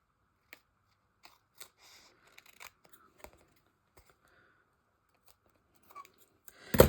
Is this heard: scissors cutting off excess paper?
yes